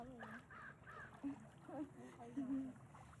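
A series of harsh, cawing bird calls, several in a row at moderate distance, over faint background noise.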